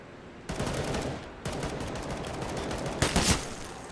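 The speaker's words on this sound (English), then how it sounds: "The gunfire right there is actually," Gunfire in a competitive video game match crackles in several bursts, a quick volley near the start, sustained rattling through the middle and a sharper cluster toward the end, fairly faint overall.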